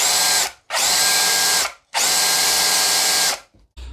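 A power drill driving a drill-powered water pump whirs at high speed in two long bursts separated by a brief pause, loud and close, winding down at the end of each run.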